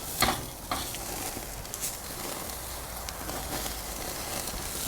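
Tomahawk steaks searing on a Slow 'N Sear travel kettle grill, a soft steady sizzle and hiss with a few sharp crackles and pops near the start, fairly quiet and continuous, with no voices.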